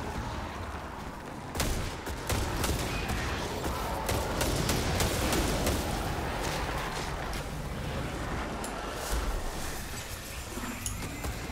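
Sustained, chaotic gunfire in the video game Destiny 2, many overlapping shots and impacts crackling continuously at steady loudness for over ten seconds after a short quieter start.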